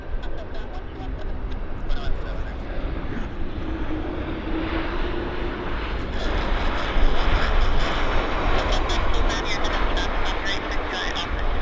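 Broadband roar of an airplane landing at Vancouver Airport, continuous and fairly loud throughout, with engine and wind noise rising slightly midway and a voice speaking under it.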